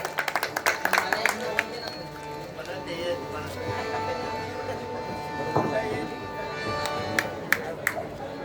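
An audience claps for Pujari Buwa at a Marathi double-bari devotional performance: a burst of sharp, scattered claps at the start, then thinning, with a voice talking over the middle and a few late claps.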